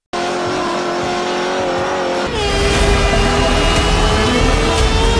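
Cars roar through a drifting race in the Gran Velocity mobile video game, with a steady engine drone that surges louder partway through and carries hints of tire squeal, with no voices.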